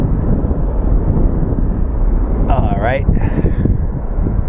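An airliner takes off from Phoenix Sky Harbor International Airport, a continuous low, rumbling roar mixed with wind buffeting the microphone, with someone briefly speaking over it.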